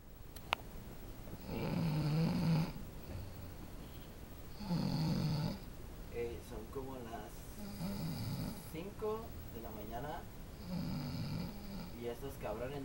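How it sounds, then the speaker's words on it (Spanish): Several people snore in a room on a beach trip in Rosarito, with long raspy inhaled snores recurring every few seconds, while a nearby voice speaks softly and laughs between them. "¿cómo roncan?"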